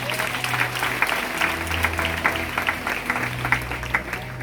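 A church congregation clapping together, steady rhythmic applause filling the room throughout, with faint voices mixed underneath.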